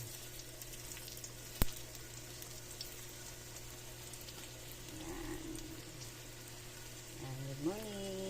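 Scrambled egg with hotdog fries in a pan with a quiet, steady sizzle, broken by a sharp click early on and a short scrape later, while a voice murmurs faintly underneath.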